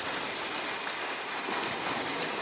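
Steady rain falls in a village in the Konkan, near a public well, a dense, even hiss that fills the short stretch without a break and with no voices.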